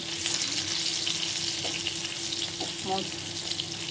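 Puli pitha fry in hot oil in a pan, a steady close sizzle with a few faint clinks and bubbling pops.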